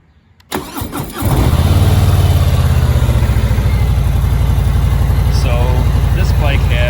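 A 2021 Harley-Davidson Street Bob 114 motorcycle cranks briefly, fires up, and settles into a loud, steady, lumpy V-twin idle, close to the microphone.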